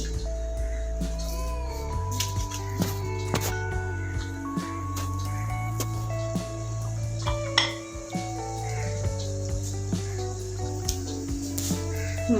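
Mustard seeds crackle and pop in hot oil in a pan while a Kerala beetroot pachadi is cooked, with scattered sharp clicks and metallic clinks over steady background music.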